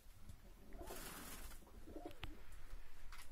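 A pigeon under treatment coos softly several times, low rounded calls repeating close by against a faint steady background hiss.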